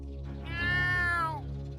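A cartoon cat gives a single drawn-out meow, rising and then falling, clear and close over a faint steady background hum.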